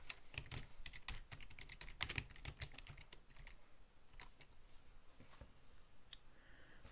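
Quick, faint, close clicks of typing on a computer keyboard on a Windows 7 PC, in a dense run that thins out into scattered keystrokes, with no speech.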